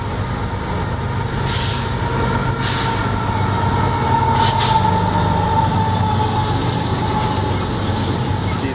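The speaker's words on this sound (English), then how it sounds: "here's the train." A train rolls through a station in Delaware, a loud, steady rumble with wheel and rail noise filling the whole stretch and occasional brake hiss.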